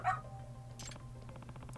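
A dog in the video game Lost Judgment gives a short bark and yip, brief and fairly quiet over a low game soundtrack hum, followed by a few soft repeated sounds.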